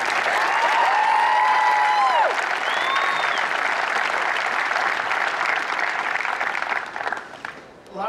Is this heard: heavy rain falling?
no